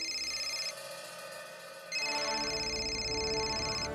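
A telephone rings indoors with an electronic ringtone: a bright repeating tonal pattern that plays, drops to a softer phrase for about a second, then returns loud and steady until the end.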